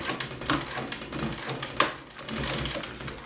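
A sewing machine stitching upholstery for an adjustable exercise bench, with quick rattling needle strokes in short runs, close and moderately loud, with a sharper knock partway through.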